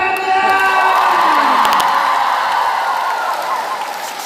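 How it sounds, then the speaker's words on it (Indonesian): Cheering crowd at a choir and conductor competition claps and shouts, loud whoops and voices riding over steady applause, a few sharp claps standing out before the noise slowly eases. "Mana tepuk tangannya?"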